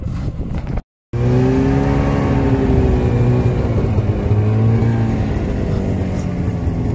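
A car driving across a frozen lake on the Hardangervidda plateau in Norway, its engine a loud, steady close drone with gently shifting pitch, briefly cut off near the start.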